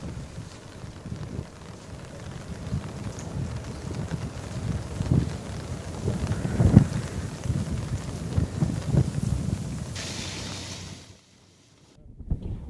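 Heavy monsoon rain in Vijayanagara district falls with gusty wind and low rumbling, a dense continuous roar with buffeting gusts before it cuts off abruptly near the end.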